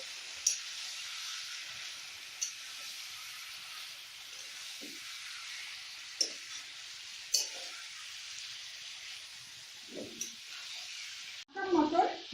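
Mutton sizzles steadily over medium heat in a pan, with occasional clinks and scrapes of a spoon stirring the meat, ending in a louder clatter of utensils.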